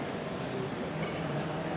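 A moving train gives off a steady, broadband rumble with rolling clatter throughout, loud and continuous, with no voices over it.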